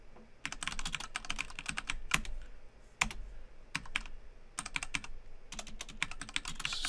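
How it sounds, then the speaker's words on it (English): Fast, fairly quiet typing on a computer keyboard, dense bursts of key clicks with short pauses between runs, heard alone with no talk. "Don't talk and type, Mike."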